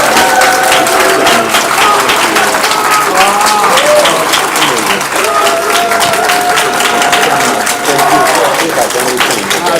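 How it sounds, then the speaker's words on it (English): Loud, continuous audience applause fills the room for actor Doug Jones at a live conversation event, dense clapping with cheers and scattered voices throughout. "everybody, please give Doug a big round of applause"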